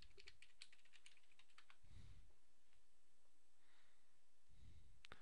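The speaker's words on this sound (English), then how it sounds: "Type in the username and password that you just created." Quiet clicks of a username and password being typed on a computer keyboard, a quick burst of keystrokes followed by sparse taps, with soft breathing in between.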